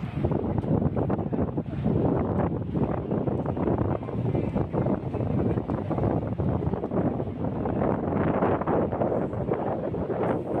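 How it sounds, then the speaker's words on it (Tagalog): Strong wind buffets the microphone in a constant heavy roar, rumbling and gusting throughout without any clear voices, outdoors in Lower Hutt, New Zealand. "Ang lakas ng hangin."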